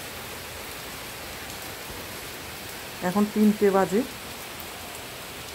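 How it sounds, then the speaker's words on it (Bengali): Heavy rain pours down steadily during a home Manasa puja, a constant soft hiss while a person speaks briefly near the end. "এখন দেখো ভালো বৃষ্টি হচ্ছে, আরও বেশি জোরে আসলো বৃষ্টিটা"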